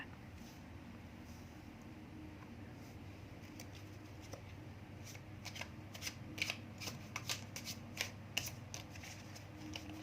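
Tarot cards are shuffled in soft, rapid riffling patters that grow a little busier toward the end, close and quiet, with no one speaking over them.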